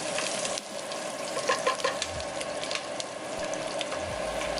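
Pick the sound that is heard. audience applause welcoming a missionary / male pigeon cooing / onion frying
onion frying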